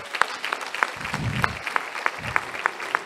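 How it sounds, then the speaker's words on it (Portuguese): A church congregation claps together in steady, ragged applause, close and lively, with a low murmur of voices rising briefly in the middle. "Aplaude o teu Deus, aplaude."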